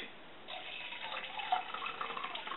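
Creek water is poured into a cooking pot at a camp stove, a soft steady trickle that grows a little fuller after the first half second and runs on close and quiet.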